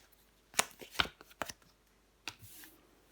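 Tarot cards are handled and flipped face up onto a table, heard as a few quiet, separate snaps and slides spread unevenly across the moment, with no talking.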